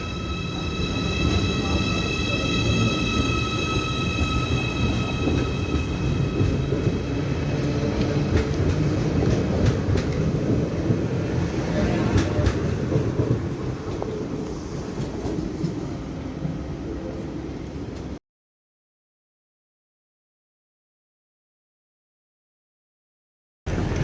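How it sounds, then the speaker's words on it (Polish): A train rumbles steadily on the rails as it rolls into Berlin Hauptbahnhof, with wheel clatter and a faint high squeal, continuous and close for most of the clip before going silent. "wjeżdża nas pociąg do Berlina Hauptbahnhof."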